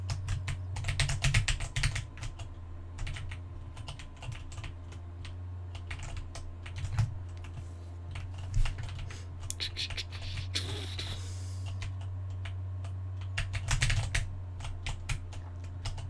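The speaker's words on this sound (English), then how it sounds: "you can hear the keyboard. It's my loud mechanical keyboard" Rapid, uneven clacking of a loud mechanical computer keyboard being typed on, in quick bursts with short pauses over a steady low background hum, fairly quiet overall.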